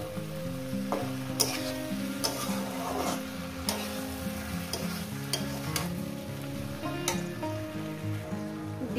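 Chopped tomato sautéed in a pan over low gas, a steady close sizzle with repeated scraping strokes of a spatula stirring throughout.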